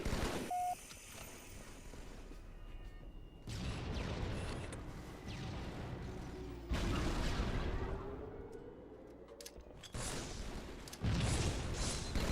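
A grenade goes off in a shooter video game, with loud bursts of explosion and gunfire that cut in and out in heavy, noisy blocks. There is no clear speech.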